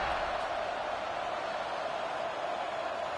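Stadium crowd at an Oregon college football game roars steadily before a kickoff, a dense, continuous wall of cheering noise with no breaks across the whole stretch.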